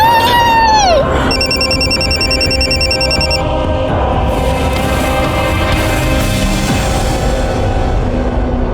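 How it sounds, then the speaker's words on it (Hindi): A telephone rings with a loud, repeating electronic ringtone that starts after a brief swooping tone, then fades into a low background murmur in a tense crime-drama scene. "ये रोहन का फोन आ रहा है"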